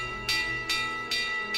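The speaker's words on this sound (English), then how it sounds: "A big gong is ringing." A big gong rings on a ferry in Lost Odyssey. Four bright, metallic strikes come at a quick, even pace, and each one rings briefly and close before the next.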